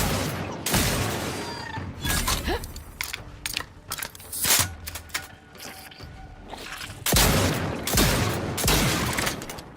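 Gunfire in The Outer Worlds 2, repeated sharp shots in bursts through the clip with a voice speaking over the action.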